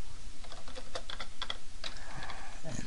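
Quick bursts of keystrokes clatter on a computer keyboard up close, a short uneven flurry of light clicks with no speech.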